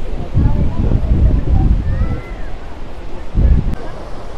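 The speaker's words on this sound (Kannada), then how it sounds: "ನೀರು ಜೋರಾಗಿ ಹರಿತಿದೆ." Heavy water rushes steadily at Gaganachukki-Barachukki waterfalls in Shivanasamudra during a high-flow season, a loud, continuous roar with wind buffeting and faint voices behind it.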